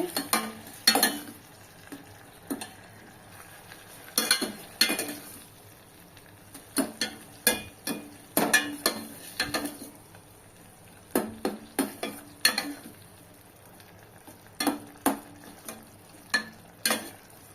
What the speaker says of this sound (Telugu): పెట్టి టమోటాలు మగ్గనిద్దాం. టమోటా ఇలా సాఫ్ట్గా కుక్ అవ్వాలి.